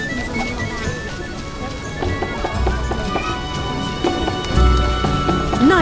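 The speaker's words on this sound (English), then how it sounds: "Raining again." Rain patters steadily in The Witcher video game, mixed with hollow clip-clop hoofbeats and game ambience, with a couple of heavier thuds near the end.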